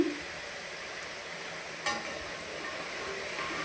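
Obbattu, a sweet flatbread, frying in hot oil in a large pan, giving a soft, even sizzle with a single brief clatter partway through and no talking.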